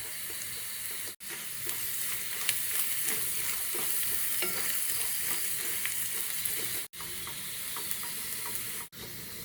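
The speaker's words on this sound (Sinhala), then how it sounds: "මේ වෙනකොට ලුණු සුදු ලුණු ටික හොඳට බැදලා හොඳ සුවඳක් එනවා." Garlic, peanuts and powdered spices such as pepper and turmeric fry in a pan for coconut sambol, giving a steady close sizzle with spoon scrapes and stirring clatter throughout, briefly cut by a few short gaps and with no talking.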